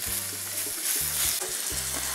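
Minced pork and beef sizzles and crackles loudly in a hot pan over high heat, with a spatula scraping and stirring in short repeated strokes.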